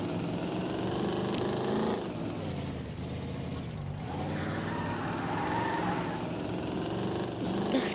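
A car engine revs and accelerates, loud and close, with tire noise swelling and easing over about eight seconds; a newly bought car is being driven.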